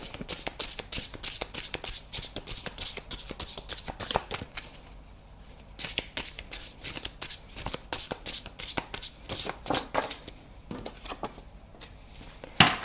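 Osho Zen tarot cards being shuffled and handled, soft papery riffles and flutters repeating in bursts with brief pauses, close and fairly quiet.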